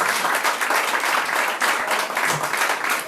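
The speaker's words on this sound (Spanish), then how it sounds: "Denle un aplauso al Señor bien fuerte." A church congregation applauds loudly and steadily, dense clapping filling the whole stretch without letup and with no talk over it.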